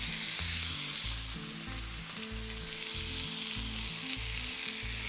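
Steady, close sizzling and crackling of hand-crushed tomatoes frying in a hot pan, with bursts of splattering and a low tonal hum underneath.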